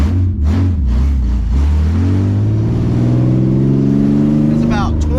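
A cheap eBay car exhaust drones raspily and rises steadily as the engine accelerates from first gear to about 2,700 RPM, loud and close, with a harsh buzzing tone throughout.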